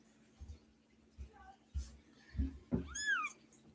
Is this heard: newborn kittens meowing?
yes